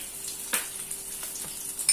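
Green chillies frying in hot ghee in a pan on low heat, a soft steady sizzle with a few brief pops and stirring scrapes, close by and without talk.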